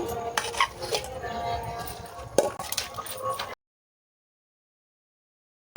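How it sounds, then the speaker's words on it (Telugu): Garlic and red chilli pickle pounded in a stone mortar, irregular scraping thuds and grinding knocks with one sharp strike, close and moderately loud, then cutting to silence. "ఆ తర్వాత రోట్లో వేసి తొక్కోవాలి"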